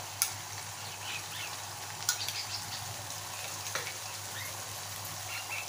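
A green paste of ground coriander, green chilli, ginger and garlic frying in a pan for prawn masala, giving a quiet, steady sizzle with a few soft stirring clicks and scrapes, and no voices.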